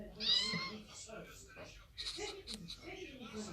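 A high, short cat meow from the video game Toca Life World sounds near the start, with a person talking over and after it.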